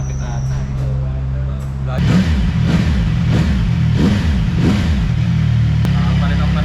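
A CFMOTO 675NK motorcycle fitted with a replacement muffler, idling close by then revved in a series of rising and falling blips, with people talking nearby.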